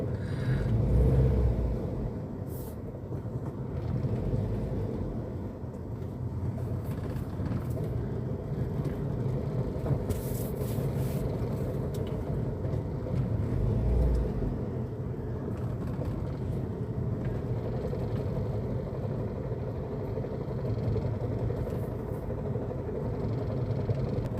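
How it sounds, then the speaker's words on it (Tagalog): Heavy road traffic with many cars near Makati Med, a steady low rumble of engines from a vehicle in the jam, with passing vehicles swelling and fading and no talking heard. "Traffic kahit sa dito sa sa Makati Mid mga driver, traffic ayan no. Daming sasakyan."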